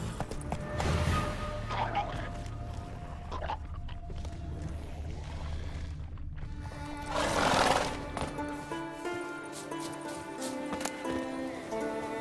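Horse neighing in The Witcher 3 video game, with whinnies rising over a steady bed of hooves and game music, and a louder whinny partway through.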